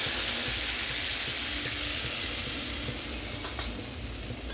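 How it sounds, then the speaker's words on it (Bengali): Hissing, steamy sizzle as a little water hits a hot pan of frying fish curry spices for Bata fish, a continuous bubbling spit that gradually eases. "আমি অল্প পরিমাণে জল দিয়ে দেবো।"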